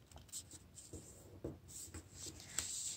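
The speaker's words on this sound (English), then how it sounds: "take this corner and fold it into the middle" Paper being folded into an origami crane gives soft, close rustles and crisp creasing taps, quiet and intermittent.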